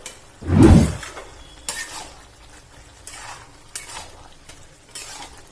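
Bengali vegetarian cabbage curry stirred in a pan, opening with one loud thud and scrape, followed by several softer, spaced spatula scrapes against the metal.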